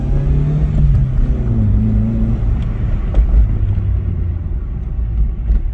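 A car engine rumbling at close range with low, uneven revving and a whirring drone, steady and fairly loud throughout, with small thumps mixed in.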